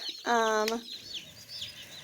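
Cornish cross meat chicks give a close, loud burst of clucking and chirping, with faint fowl noises continuing in the background afterward.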